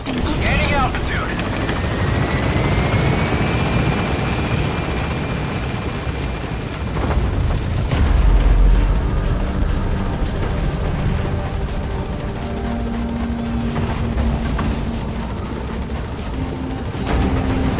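A helicopter lifts off in Metal Gear Solid 5, its rotor roar loud and continuous with a rising whine at the start, and voices and game effects layered over it.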